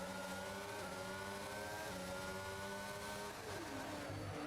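Several racing cars in a video game race at the Azerbaijan round, their engines whining steadily and close by with rising and falling gear changes, loud and with no talk over them.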